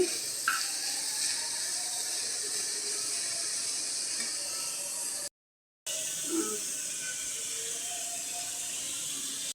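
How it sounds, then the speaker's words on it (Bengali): Fish fries in a pan with a steady, even sizzling hiss that carries on unbroken, drops out briefly partway through, then resumes just as before. "মাছটা আগে ভাজি করে নিতেছি।"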